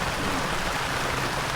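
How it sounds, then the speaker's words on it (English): Light rain patters steadily outdoors on a lot being cleared, making a continuous soft hiss with no distinct drops standing out. "nice little rain out here."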